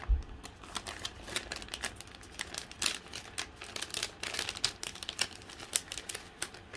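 Sheets of Christmas gnome-themed scrapbook paper being handled and shuffled up close, with a steady run of crisp crinkles, rustles and light taps and no one talking.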